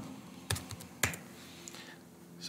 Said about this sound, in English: if I type in a different number